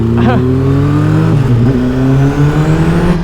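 Kawasaki Ninja H2 supercharged motorcycle accelerating hard, a loud, close engine note climbing in pitch across several rising sweeps, with a brief dip and shift midway as it keeps pulling; a rider's voice is faintly mixed in.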